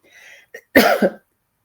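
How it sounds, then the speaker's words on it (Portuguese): A single harsh, close cough bursts out after a short breathy lead-in, loud and clear with nothing else around it. "Ainda estou com uma tosse me incomodando"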